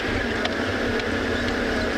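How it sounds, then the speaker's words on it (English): A safari vehicle's engine idling on a South African morning game drive gives a steady, loud, unbroken rumble and broad hiss that fills the whole moment without any talk. "the engines are really, really noisy"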